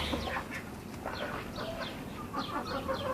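Several chickens cluck and squawk close by in a steady, busy chorus, with overlapping calls and no talking.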